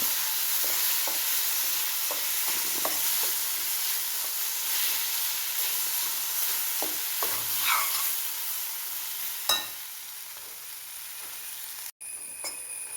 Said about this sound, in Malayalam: ഇനി നമുക്ക് മുളക് ചേർക്കാം അരപ്പ് ചേർത്തു ഇളക്കി യോജിപ്പിക്കാം